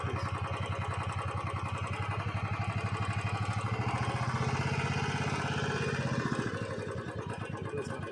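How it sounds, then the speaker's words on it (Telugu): A Royal Enfield motorcycle engine runs at idle just after starting, a loud, close, steady thumping putter with a lumpy rhythmic beat that holds for several seconds with no talking. "సో ఫ్రెండ్స్, మనం వెహికల్ని స్టార్ట్ చేయడం జరిగింది."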